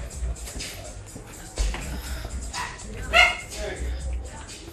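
An abandoned dog at a residence yips and whimpers, with one sharp high cry standing out among shuffling and people speaking nearby.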